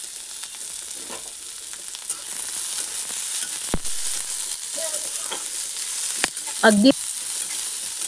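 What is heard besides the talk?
onion frying in oil in a pan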